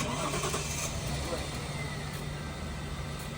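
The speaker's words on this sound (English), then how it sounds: "Press the clutch and turn the car on." A car engine cranks and catches, settling into a steady mid-pitched running hum, loud and close with a dense noisy texture throughout.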